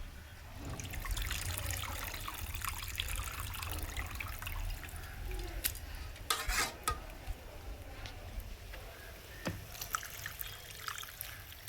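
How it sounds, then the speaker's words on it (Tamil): Steady water pouring and stirring into a pot of village-style fish curry over a continuous sizzling, bubbling background, close by with occasional clinks. "குழம்புக்கான தண்ணி எல்லாம் ஊற்றியாச்சு."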